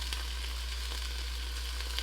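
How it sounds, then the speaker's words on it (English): A steady, even sizzle as vinegar hits a hot pan while making Dominican mangu, continuous and fairly loud throughout with no voices. "And you're gonna hear it sizzle."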